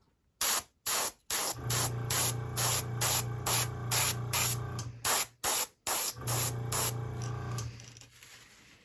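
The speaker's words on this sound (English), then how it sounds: "Put that in the airbrush." Repeated short bursts of an airbrush spraying paint onto a fishing lure, a sharp hiss pulsing on and off in quick rhythm, close up.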